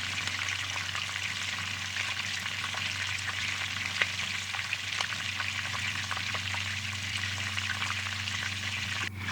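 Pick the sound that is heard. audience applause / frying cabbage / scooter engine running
frying cabbage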